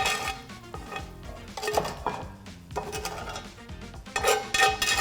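Chopped onions scraped into a bowl, with repeated clinks and clatters of a utensil against dishes and a pan in irregular bursts, close and fairly loud, no talking.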